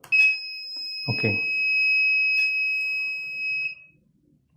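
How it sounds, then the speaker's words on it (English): A buzzer driven by an Arduino board gives a steady, piercing electronic tone lasting a few seconds, with a short spoken word near the start and a brief clatter early on. "Okay, so buzzer is working."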